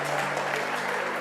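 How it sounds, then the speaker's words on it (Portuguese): Congregation in a church service applauds, a brief, even wash of many hands clapping together at moderate distance. "Você pode aplaudir a Ele nessa noite"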